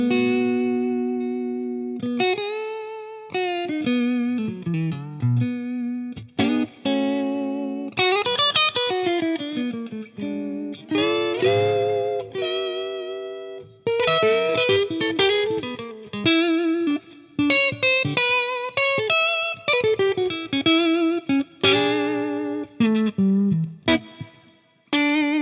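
An S-style electric guitar on its middle pickup, played clean with plenty of effects, runs through a long stretch of bright plucked notes and chords. Phrases are picked one after another, each ringing briefly before stopping, with no voices.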